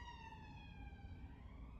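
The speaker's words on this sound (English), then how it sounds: "Oh, the sirens." A siren wails steadily in the distance, its rising and falling tone clear but faint over low background rumble.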